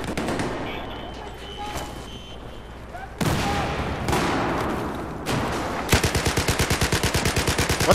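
Gunfire in Battlefield 4: scattered shots and loud bursts give way to a rapid, evenly spaced automatic weapon burst near the end, loud and close, with faint game sounds between.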